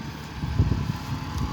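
A tractor engine runs steadily while a rice paddy is plowed and harrowed in Isan, Thailand, giving a continuous low, close rumble with no talk.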